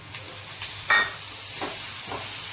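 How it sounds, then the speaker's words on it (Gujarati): Tomatoes go into a sizzling pan of fried onion and spices for a Kathiyawadi aubergine dish. A continuous close hiss carries a sharper burst near the first second, then a few scraping stirs, with no talking. "હવે ટમેટા નાખશું."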